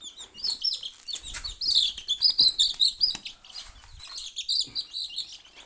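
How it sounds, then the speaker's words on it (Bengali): Native chicken chicks chirp in a rapid string of high, thin peeps, close and fairly loud, with a few soft bumps and rustles beneath. "মুরগিগুলো বের হয়ে গেল, আমি ভরে দেবো একটা একটা করে।"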